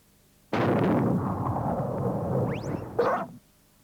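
A single booming cannon blast with a long rumbling tail, followed by a short whooshing burst near the end.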